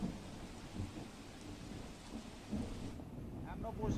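Heavy monsoon rain showers over the green hills of Dang in Gujarat make a steady, dense broadband roar, with low rumbles like distant thunder swelling near the end; no one speaks.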